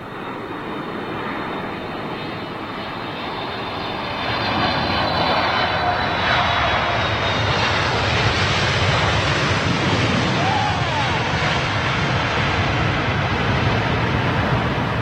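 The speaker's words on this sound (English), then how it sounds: "Oh, is this the Etihad freighter?" A loud, steady jet roar from an Etihad freighter landing at Heathrow fills the whole clip, swelling and growing closer partway through, with no voices heard.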